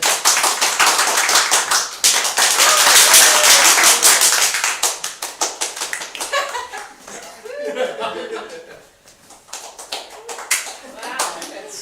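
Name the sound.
audience applauding to vote for a game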